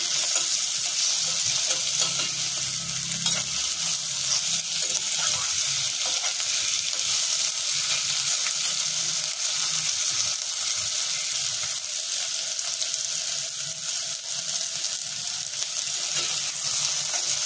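Sponge gourd, potatoes and cowpea beans cooking in a pan in their own water, a loud, unbroken sizzling hiss with low bubbling underneath, close up and steady for the whole stretch.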